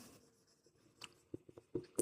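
Pen or chalk scratching out an equation by hand during a maths lesson, a short run of light, uneven strokes and taps growing slightly louder toward the end, with no talking.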